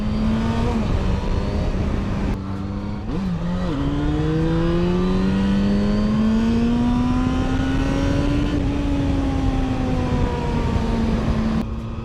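A Yamaha FZ6 four-cylinder motorcycle engine revs and pulls steadily during a ride, its smooth, loud drone rising in pitch, dipping briefly between gear changes and climbing again, close and continuous with no talk.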